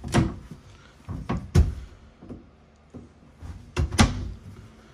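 Drawers and cabinets in a 2021 Forest River Sabre 37FLH fifth-wheel RV being opened and shut, a series of close, sharp thumps and knocks in irregular clusters with quieter sliding between them.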